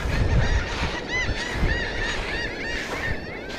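A large flock of birds honks and quacks continuously, loud and close, over a busy clamor of overlapping calls near water where they feed on small fish among seaweed.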